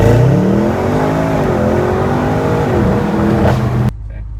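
A tuned BMW M550i engine roars loudly and close at full throttle, its revs climbing and wavering for several seconds before cutting off abruptly into a low idle.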